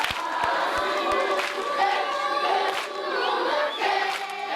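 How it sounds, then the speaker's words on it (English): A crowd cheers and claps for school children and adults from Birchfield Community School, a loud sustained roar of voices and applause with a few sharp claps standing out at the start. "one great last big thank you and a round of applause for the children and adults from"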